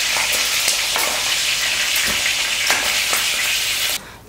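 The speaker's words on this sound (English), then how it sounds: "to brown the other side. Then remove and drain." Pork ribs brown in hot oil with a loud, dense sizzle and crackle, dotted with small pops and spatters, running steadily until it drops off abruptly near the end.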